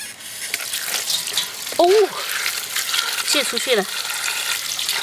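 Pig trotters are washed and scraped under a running kitchen tap in a sink, a steady close hiss of water with scraping, while someone speaks briefly.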